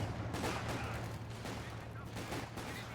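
Small arms fire in Company of Heroes 2 during an elite 2v2 match: a dense, continuous crackle of rifle and machine-gun bursts with a low steady hum underneath, moderately loud throughout.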